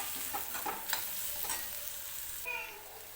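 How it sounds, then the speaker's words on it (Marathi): Ground masala paste sautéing in oil for a drumstick curry, a steady close sizzle with soft stirring scrapes throughout, no talking. "वाटण टाकून घेऊन हा मसाला मी व्यवस्थित तेलामध्येच परतून घेते."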